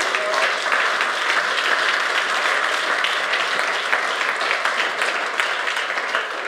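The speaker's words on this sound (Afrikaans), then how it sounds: "Die hande klap vir die Here, is dit goed" A church congregation claps for the Lord in a continuous, dense wash of applause that holds steady and loud throughout, with many hands blending together in a large room.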